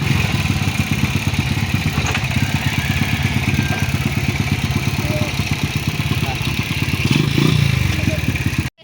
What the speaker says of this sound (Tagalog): Alis na kami at umandar na yung motor.